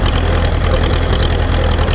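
An Ursus tractor engine idling, loud and close, with a steady low knocking throb that repeats evenly and never stops, and no voices over it.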